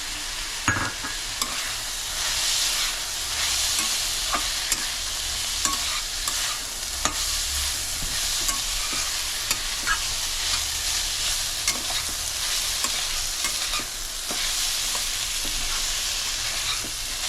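Large shrimp stirred with poppy seeds in a pan for a spicy village-style prawn bharta: a steady, close sizzle with constant scraping and stirring and a few light knocks, with no voices.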